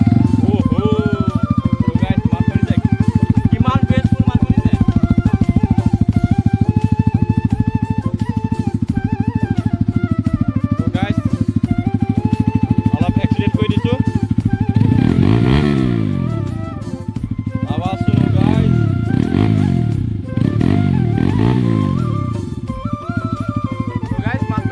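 A Bajaj NS 200 BS6 motorcycle fitted with an SC Project exhaust idles with a deep, throbbing burble, then revs in several sharp rising bursts near the end. The engine is close and loud.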